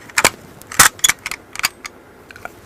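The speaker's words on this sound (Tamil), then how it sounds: "இப்போ ஒரு படத்துல இந்த பிஸ்டல் சவுண்ட் வருது," Sharp, dry foley pistol shots made by striking metal keys: several quick snapping cracks in an irregular burst, with a couple of louder hits among smaller clicks, close and isolated.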